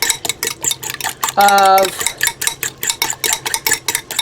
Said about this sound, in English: we got eggs, and we got to get them beaten